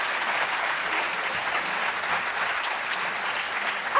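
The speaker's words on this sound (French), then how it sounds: "On l'applaudit bien fort, s'il vous plaît." Sustained applause from an audience at an evening stage event, an even, dense roar of clapping held throughout without voices over it.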